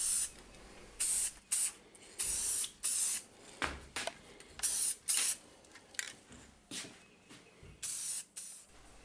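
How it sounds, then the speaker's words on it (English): Clear satin finish sprayed from a can onto a wooden chess board, heard as a series of about a dozen short, close, loud hissing bursts separated by brief pauses. "To bring out the grain and to preserve the timber, I'm just using some clear satin."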